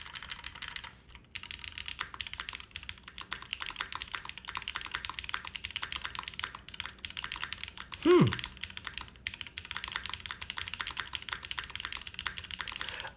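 Typing on a Duo M prototype mechanical keyboard with no click, a close, rapid, uneven patter of keystrokes with a short pause early on, a single deeper spacebar thock near the middle, and a voice speaking at moments.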